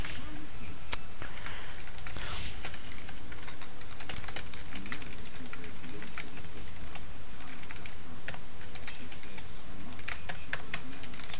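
Rapid, uneven tapping on a computer keyboard goes on nonstop, close and clear, while someone speaks over it.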